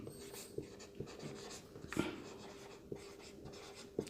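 A pen scratches across paper while a math solution is written out by hand, giving soft close strokes with sharper taps at the ends of marks, faint over a quiet room.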